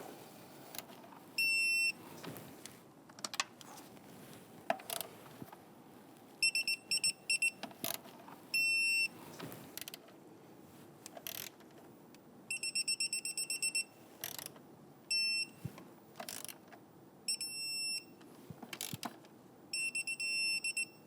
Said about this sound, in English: Now I'm going to go ahead and torque down our bolts here